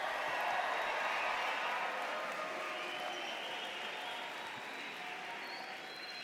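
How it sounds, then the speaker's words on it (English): Commencement audience clapping and cheering at a university business school ceremony: dense, steady crowd applause with scattered shouts, holding loud and then easing slightly over several seconds. "the friends, the family members would clap, would cheer, would shout loudly"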